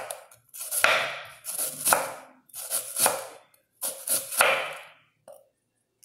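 Knife slicing a white onion into thin julienne strips on a board, several bursts of crisp cutting strokes in quick runs separated by short pauses, close and clear with no talk.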